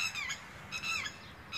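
A bird calls from dense trees beside a quiet walking track on a holiday morning, giving a few harsh, squawking notes in short bursts, fairly faint and at a distance, with no voices.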